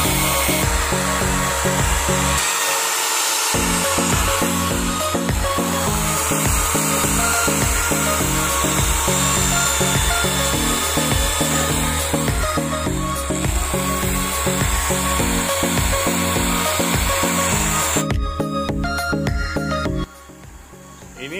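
A power drill with a regular drill bit bores through a PVC pipe cap in a loud, steady, continuous whine that runs almost unbroken for about twenty seconds, then cuts off briefly near the end.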